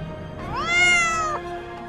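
A single cat meows once, a clear rising-and-falling cry that carries for about a second at moderate loudness, with a faint steady hum underneath and no speech.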